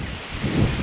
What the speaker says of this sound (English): Wow, that wind just came out of nowhere.